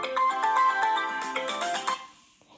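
A mobile phone ringtone signals an incoming call from a mother, playing a melodic electronic tune of repeated notes that is clear and fairly loud, then fades out near the end.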